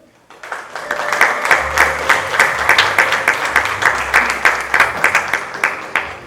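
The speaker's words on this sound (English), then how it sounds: "let's give them all another big round of applause" An audience at the Miss Phenix City and Miss Phenix City's Outstanding Teen 2022 pageant breaks into loud, sustained applause that swells quickly and carries on steadily to the end.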